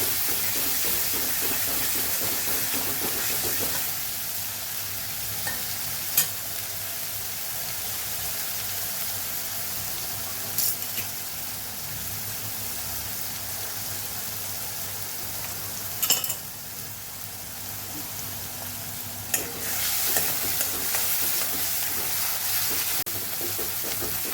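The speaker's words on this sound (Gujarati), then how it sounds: "અહીંયા મસ્ત એવી ડુંગળી આપણી સતળાઈ ગઈ છે" Onions sizzling in oil in a pan for a besan curry, a steady close hiss with occasional clinks of a stirring spoon and no talking.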